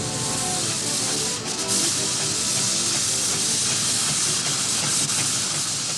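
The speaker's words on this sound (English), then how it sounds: "There's steam everywhere you turn" Steam engines at a Dorset steam fair let off a continuous loud hiss of escaping steam, close and unbroken, with a brief dip and faint mechanical rumble beneath.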